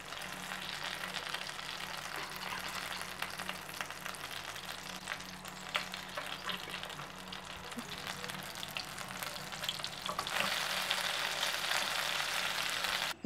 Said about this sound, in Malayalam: രണ്ട് സൈഡും നമുക്ക് ഫ്രൈ ചെയ്തെടുക്കണം.